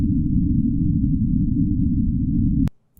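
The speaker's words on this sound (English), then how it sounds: "put it through a filter that allowed through all" Loud, deep rumbling noise low-pass filtered to keep everything from 0 to 300 hertz, a constant thick roar that runs steadily for over two seconds before cutting off suddenly with a click.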